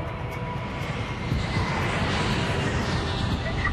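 Jet aircraft landing on a runway at Heathrow airport, a loud broadband engine roar that builds and holds steadily, close and dominant with a low rumble underneath.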